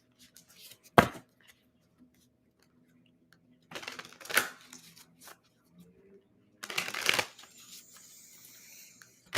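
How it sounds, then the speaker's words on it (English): A deck of cards being shuffled by hand at close range, in three separate bursts of brisk riffling with quiet pauses between them, and no talk over it. "let's go ahead and take a look at some cards."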